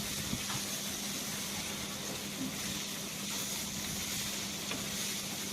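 Masala and onions fry on a slow flame, making a constant, even sizzle and hiss with occasional faint stirring sounds and no sharp peaks.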